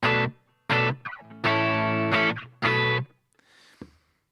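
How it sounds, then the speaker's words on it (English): Distorted electric guitar chords played in short bursts through a room reverb from an HX effects unit, each ringing briefly into a small room-like reverb tail before fading into quiet. "the reverb that's on is a room reverb at the moment"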